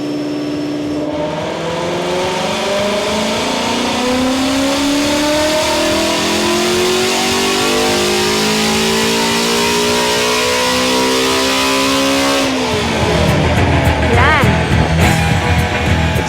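A 2016 Shelby Mustang GT350 on a dyno, its engine revving in one long steady climb through the gears for about twelve seconds, loud and close, before the pull ends and it falls back.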